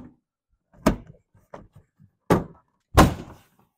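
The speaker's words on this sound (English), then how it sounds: "Now we can hang the door panel." An interior door panel is fitted onto the door of a 1985 Chevy squarebody truck, producing four or five separate dull thunks and knocks of varying strength, close by, with quiet gaps between them.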